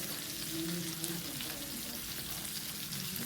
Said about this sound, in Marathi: आपण हे अखंड फिश बनवत आहे जिलेबी फ्राय